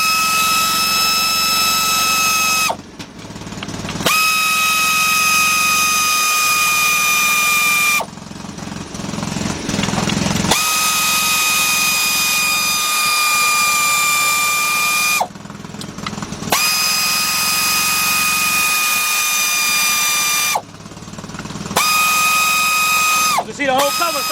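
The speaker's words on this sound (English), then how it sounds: "So let's start that air compressor up" An air compressor runs in a car repair shop during timing belt and water pump work, a steady loud whine with harmonic tones that cuts out and restarts several times, with broadband noise bursts in the gaps.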